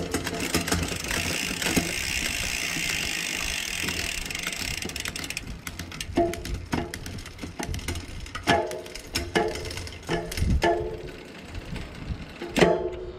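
A SRAM Eagle rear derailleur on a mountain bike held in a workstand, shifting gears: a freewheel whirs and ticks steadily, then sharp clicks and ratcheting clunks land one after another as the chain moves across the cogs, up close.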